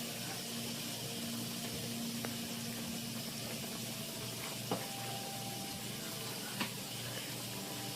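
Beef liver sizzles steadily in a frying pan, a continuous close hiss and crackle with a couple of sharp pops, no one speaking.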